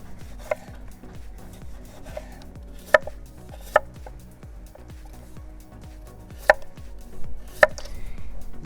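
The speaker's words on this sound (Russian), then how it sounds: "Также помидоры нарезаем кольцами." A knife slicing tomatoes into rings knocks against a cutting board in a handful of sharp, spaced taps, with soft slicing sounds in between and no voices.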